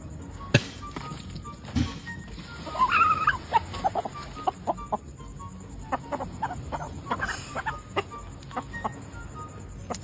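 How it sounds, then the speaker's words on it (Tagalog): A chicken clucks in short bursts near the listener, with scattered tapping and knocking sounds and no voices. "May manok."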